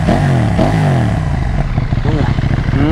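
A KTM Duke 790 motorcycle fitted with a Remus exhaust revs loudly and close, its engine note rising and falling in quick blips with a rough, throaty rumble.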